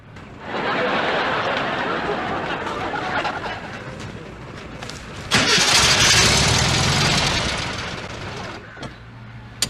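A car engine turns over and catches after being pushed, a broad rough roar that surges louder midway and then drops to an idle before cutting off, with voices talking over it.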